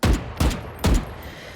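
Three evenly spaced gunshots from a weapon in the video game Valorant, loud and close, each with a short booming tail.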